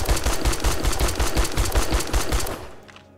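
Automatic gunfire aimed at a bear in the survival game 7 Days to Die: a rapid, loud burst of evenly spaced shots for about two and a half seconds, then the firing cuts off and fades.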